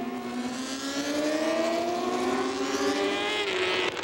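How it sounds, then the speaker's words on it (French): Grand Prix motorcycle race engines scream loudly and continuously, with rising and shifting tones as several bikes race past close by, with no talk. "Julian Simon a pris l'ascendant sur Terol, mais Marquez poursuit sa remontée."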